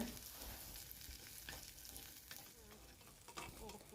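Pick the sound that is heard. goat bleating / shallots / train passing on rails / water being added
shallots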